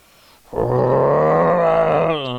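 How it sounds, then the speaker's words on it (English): A lion's roar from Aslan in The Lion, the Witch and the Wardrobe starts abruptly after a brief silence, then holds as one long, loud, rich sustained bellow that trails off at the end, with no speech. "his great mouth opened wider and wider, and the roar grew louder and louder"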